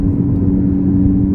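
A 2018 Audi RS3 sedan's five-cylinder engine drones low and loud at a steady pitch, a close, continuous rumble with no voices over it.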